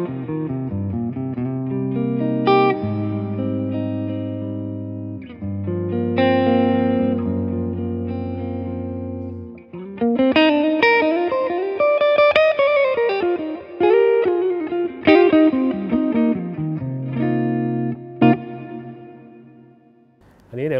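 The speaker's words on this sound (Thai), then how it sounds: "ตัวรีเวิร์บนี่ก็ค่อนข้างทำมาเสียงดีเลยทีเดียวนะครับลองเปิดสุดดูว่าเสียงจะ" Electric guitar played through a Laney LV300Twin amplifier with the reverb turned all the way up, sustained chords and melodic lines ringing with a long wash of reverb, loud and close, with a short gap mid-passage.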